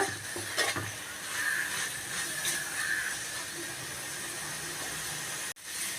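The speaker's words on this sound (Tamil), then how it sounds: "இடையில் இப்படி கலந்து விட்டுக்கோங்க இஞ்சி பூண்டு சேர்த்துக்கிறதுனால அடி பிடிச்சிடும் அடி பிடிக்காத அளவுக்கு கலந்து விட்டுட்டே இருங்க" Onion, ginger and garlic fry in a pan for a fish curry with a soft, steady sizzling hiss. Light scraping strokes of stirring come and go, and a brief clunk sounds near the end.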